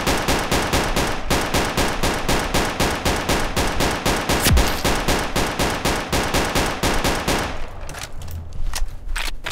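STG-44 rifle fire in the Roblox game Unit 1968, a loud, rapid, evenly spaced burst of automatic shots held for several seconds before breaking off into scattered quieter sounds.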